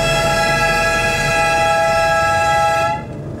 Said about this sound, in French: 3 coups de klaxon pour les réveiller